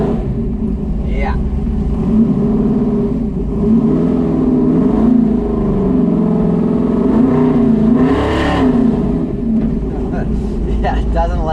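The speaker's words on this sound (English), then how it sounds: "It'll definitely just rev up to like 4 grand." A car fitted with a 4500 stall converter revs on the street, its engine note rising and falling in a loud, close drone that climbs and dips, with voices talking over it.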